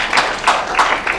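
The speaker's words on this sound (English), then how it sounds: "give me like your example of like a 1 applause" A small, sparse applause from an audience, a few separate soft claps spaced out in a slow, uneven rhythm, close and fairly loud, with no voices.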